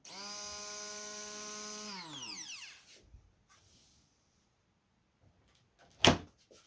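A Braun MQ50001MWH hand blender runs in turbo mode with a strong, steady motor whine that winds down sharply after about two seconds, followed by near silence, faint handling noises and one sharp knock.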